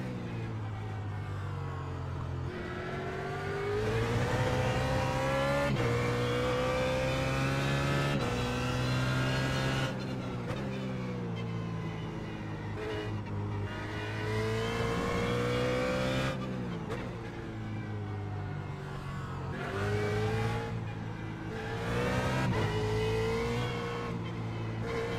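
BMW Z4 GT3 race car in iRacing at Virginia International Raceway, its engine droning and revving steadily through gear changes, rising and falling in pitch with continuous loud tone and no talk.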